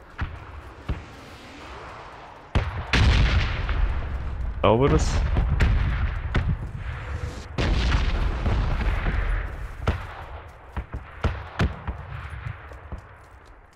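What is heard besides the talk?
explosions in the video game PUBG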